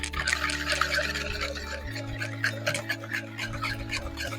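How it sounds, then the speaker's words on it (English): Milk being poured into eggs in a bowl, a soft liquid trickle and splash close by, with faint background hum and light clinks. "I'm going to add a touch of milk."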